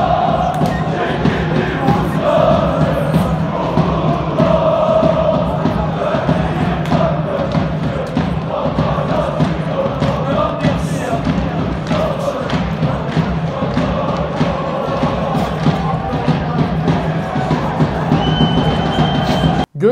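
A dense crowd of Eyüpspor football fans in the stands chants a march in unison, loud and sustained with steady rhythmic thumping throughout.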